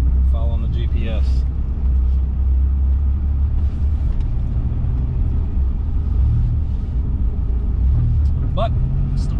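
A 2010 Dodge Viper SRT10 cruising on the road, its engine a steady low rumble heard from inside the car with faint road noise and occasional brief voice bits.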